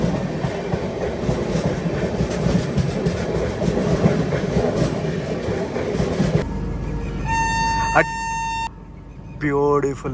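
Another train rolls past a stopped express at the outer signal of Itarsi junction with a loud, continuous rattle of wheels and carriages, then the rumble gives way to a clear, sustained horn blast near the end.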